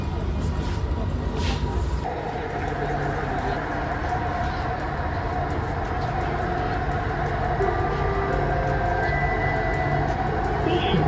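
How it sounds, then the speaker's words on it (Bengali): Kuala Lumpur metro train running between stations, a steady loud rumble and whine of the carriage in motion with a tone shift partway through, continuous for the whole stretch. "আর 3টে স্টেশন তারপরে চলে আসবে পাসারসেনি।"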